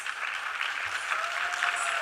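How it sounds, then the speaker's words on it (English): Audience applause for parents called onto the stage at a Bharatanatyam arangetram, a continuous even wash of clapping from a seated crowd, moderately loud and without speech. "they deserve a huge round of applause"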